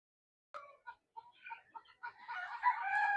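Month-old Darag native chickens from Iloilo in a backyard brooder give a string of short cheeps and clucks, sparse at first and then more continuous, close and fairly faint.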